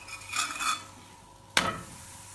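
Moringa paratha cooks on a pan with ghee, giving a faint sizzle and soft scraping as it is pressed, then a sudden sharp clack or flip part way through.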